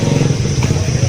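Idling motorcycle taxi (ojek) engine on a road near the Sirah Kencong waterfall, a steady low rumble with a slight rev midway, close and continuous for the whole moment.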